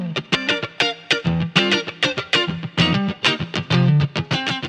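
Snappy, percussive funk electric guitar, played as tight rhythmic chord stabs with short muted strokes in a steady groove, loud and alone with no talking.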